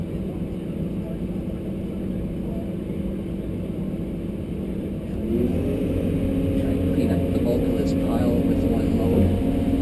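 A vehicle engine accelerates on dry dirt, a steady low rumble that swells louder and more forceful about halfway through and then holds at the higher level.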